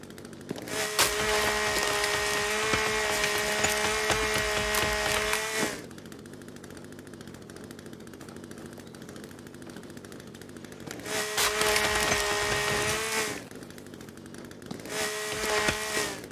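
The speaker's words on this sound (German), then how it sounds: "So, dann wechseln wir mal auf die Kettensäge." A chainsaw cuts wood in the video game The Forest, long sustained buzzing whines in bursts separated by quieter idling, loud and close, with no speech.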